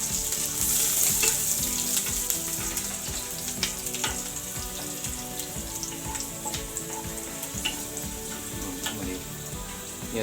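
Chilli sizzles and spatters in very hot oil as a tuna chilli is cooked, a steady crackling fry with scattered sharp pops and occasional stirring scrapes, close and continuous.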